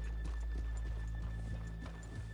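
Hooves clip-clop at a steady walking pace in Red Dead Redemption 2, faint and nearby, with a horse whinnying over a low constant hum.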